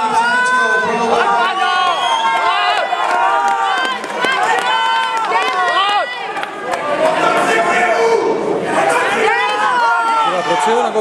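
A crowd at a wrestling gala evening in Pardubice cheers, shouts and whoops steadily. The sound is loud and close, with many overlapping voices that swell and dip throughout.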